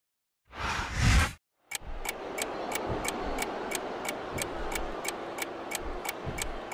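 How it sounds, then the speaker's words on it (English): At a WWE Backlash 2008 wrestling event, a clock ticks in a sharp, even rhythm right after a short burst of crowd noise, each tick distinct above a loud arena roar. "You hear the clock ticking."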